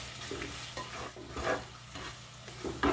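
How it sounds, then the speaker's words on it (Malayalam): Curry leaves sautéing in a pan for a coconut-free Kerala fish curry, a steady soft sizzle broken by intermittent scraping stirs, close and moderately quiet, with no talking. "രണ്ട് രണ്ട് വേപ്പിലയും കൂടെ ഇട്ട് കൊടുക്കാം ഇത് നന്നായിട്ട് നമുക്ക് വഴറ്റിയെടുക്കാം"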